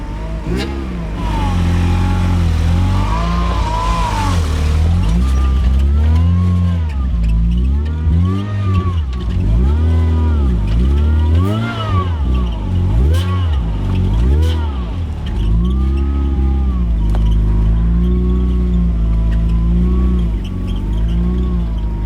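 A Mazda Miata rally car drives offroad in the dark on a rough back trail, its engine droning and rising and falling in pitch through repeated rev changes, loud and close throughout.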